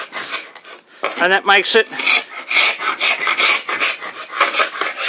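A hand paint scraper strips old paint from an antique wooden cabinet in repeated close, rasping scrapes, with someone speaking briefly between strokes.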